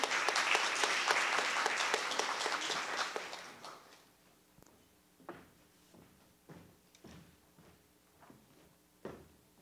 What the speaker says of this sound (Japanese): どうぞ拍手でお迎えください